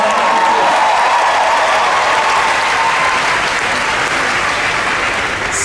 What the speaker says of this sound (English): How about another huge round of applause for them?